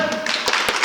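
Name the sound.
audience clapping louder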